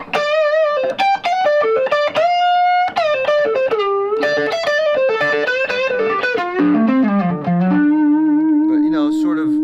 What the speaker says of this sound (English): It's kind of a nice in-between sort of overdrive sound